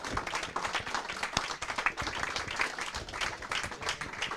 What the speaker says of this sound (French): je pense qu'on peut applaudir Laurent Théry